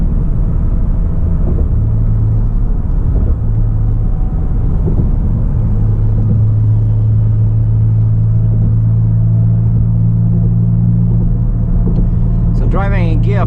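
A 2017 Ford Mustang cruises in fifth gear above 2000 RPM on a 55 mph highway. A steady, low engine drone blends with road rumble and holds loud and even throughout.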